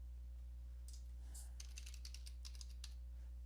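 Typing on a computer keyboard while fixing a Code 32 driver error for an Intel CPU, with a short run of soft key clicks in loose bursts over a steady low hum.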